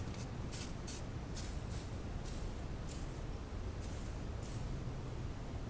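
Short hissing bursts from a WD-40 aerosol can sprayed onto a tight hose clamp on a BMW X3 starter job, several quick sprays in a row over a steady background rumble.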